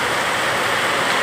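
Heavy rain pours down near a Hanuman temple as a dense, even hiss of falling water, loud and unbroken throughout.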